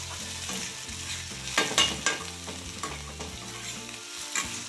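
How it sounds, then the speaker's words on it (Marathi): Kantola vegetable is sautéed in an iron wok, with a steady sizzle and repeated scraping and stirring strokes close by, plus a few sharper clanks of a utensil against the wok; no voices. "तर अशा प्रकारे आपली कडवणची परतलेली आहे"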